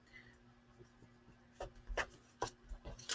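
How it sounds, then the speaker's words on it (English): Paper library cards being folded and burnished by hand, a quiet lead-in followed by several short, close rubbing and scraping strokes in an uneven rhythm. "I'm just going to fold these and burnish them."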